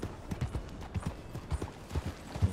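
A black American Standardbred horse wearing a saddle walks in Red Dead Redemption 2, its hooves clip-clopping in a steady, even rhythm of close, distinct thuds, with no talking.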